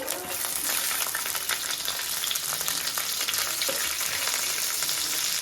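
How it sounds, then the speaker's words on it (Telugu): Almonds and cashews fry in hot ghee in a kadai, giving a steady, dense sizzle with occasional stirring scrapes, close and continuous throughout. "నెయ్యి హీట్ అయింది మనం బాదం జీడిపప్పు ఫ్రై చేసుకున్నామండి ఇవి ఫ్రై అవ్వాలి"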